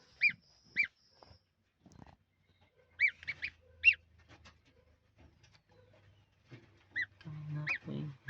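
A newly hatched gosling from a homemade egg incubator honking in short, high, scattered calls, some in quick pairs, with soft background noises and a denser burst near the end.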